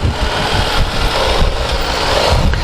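Steady rumble of a KTM 1190 Adventure motorcycle's big V-twin engine running during a test ride, loud and continuous with wind noise.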